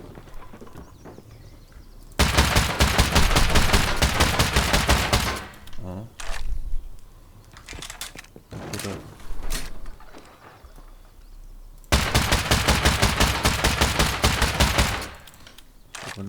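Two long bursts of rapid video game gunfire, each lasting about three seconds, separated by scattered single shots and clatter.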